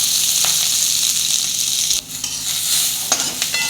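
Chopped onion frying in oil for a spicy bitter gourd curry, a steady close bright sizzle with a few spoon scrapes and a brief dip in the hiss midway.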